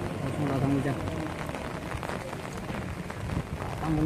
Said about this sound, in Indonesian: langsung datang hujan.